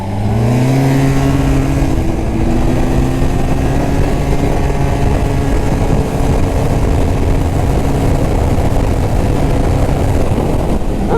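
An Arctic Cat snowmobile with studded track and carbides runs at speed, its engine a loud, constant droning roar with a steady pitch that holds throughout, close and unbroken.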